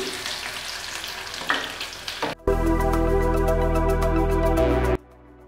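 Onions fry in hot oil for a prawn dopiaza, sizzling and crackling under stirring; the sizzle swells sharply to a loud steady hiss midway, then falls away abruptly.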